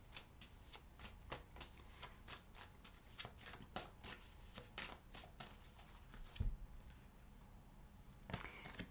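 Tarot cards are shuffled in quick, repeated riffles, a soft rhythmic flutter that stays quiet and close with no talking.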